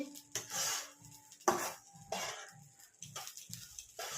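Dal being dry-fried in a pan for pulao, stirred with a spoon that scrapes and clinks in repeated irregular strokes, close and moderately loud.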